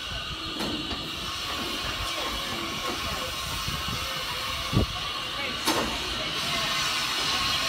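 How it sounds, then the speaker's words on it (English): The steam engine Toby arrives at Beamish open-air museum in the North of England with a steady hiss of steam and rolling train noise, a few sharp knocks and clanks cutting through the constant rumble. "train's coming. There's a train."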